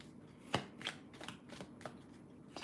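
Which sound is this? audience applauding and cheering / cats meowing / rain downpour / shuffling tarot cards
shuffling tarot cards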